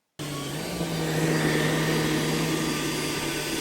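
A Samsung Jet 90 cordless stick vacuum cleaner starts up and runs steadily, its loud motor whine and airflow roar holding constant and close, with no talking.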